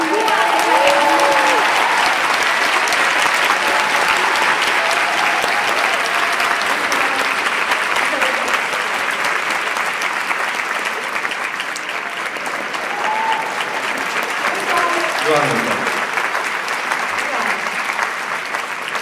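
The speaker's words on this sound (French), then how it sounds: "Est-ce qu'on peut l'applaudir s'il vous plaît?" Audience applause at a French Q&A event with Mamoru Hosoda, loud sustained clapping from a large crowd filling the whole stretch, with faint voices and a few cheers mixed in.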